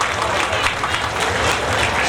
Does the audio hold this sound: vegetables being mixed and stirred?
no